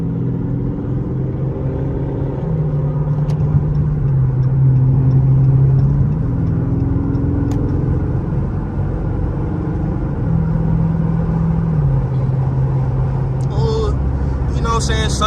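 Dodge Charger Scat Pack cruising on the road, a steady low engine drone and tyre rumble throughout, with a person talking over it.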